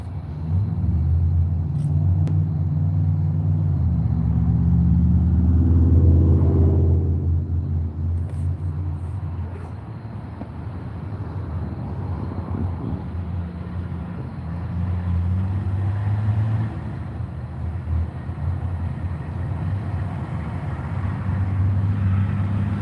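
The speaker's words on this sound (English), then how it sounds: "rock truck. They carry rocks." A heavy rock truck used for hauling rocks rumbles past outdoors. Its deep, loud engine drone swells to a peak and then fades into a steady low rumble.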